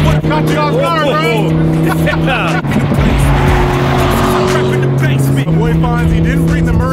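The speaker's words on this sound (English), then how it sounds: "You don't hear it so much when it comes up, when it passes by you. You hear that exhaust, man." A supercar roars past with a loud exhaust and a brief tire squeal, while music plays and people talk over it, the engine note swelling and fading.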